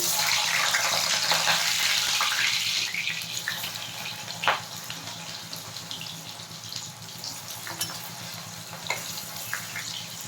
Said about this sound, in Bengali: তেল গরম হয়ে গেছে এবার প্রথমে কাঁচকলাটা ভেজে নেব